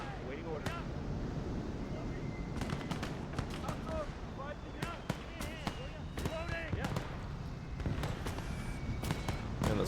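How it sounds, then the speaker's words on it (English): Mortar barrage explosions in a WWII real-time strategy game set during the D-Day invasion, a string of sharp booms and crackling blasts scattered across the clip amid continuous battle ambience, with some talk underneath. "I'm going to call in a mortar barrage there."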